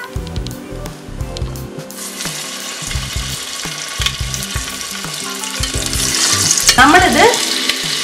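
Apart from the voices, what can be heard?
chicken popcorn deep frying in oil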